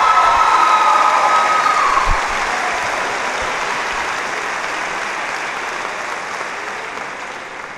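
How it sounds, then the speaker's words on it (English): A high school graduating class applauding at a commencement ceremony, a dense, loud wash of clapping from a large crowd that holds steady and slowly tapers, with a brief whistle near the start. "Class of 2018, give yourself a round of applause for a job well done"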